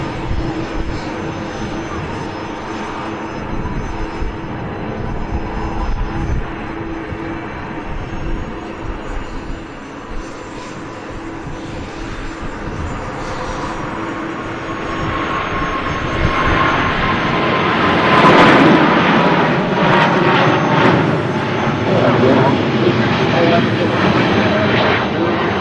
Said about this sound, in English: that's the flight just departed